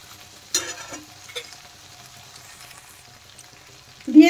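A poppy seed and green chilli paste is stirred into kochur loti and prawns in a frying pan, heard as faint sizzling with a few sporadic scrapes and a louder clatter of the spatula at the end.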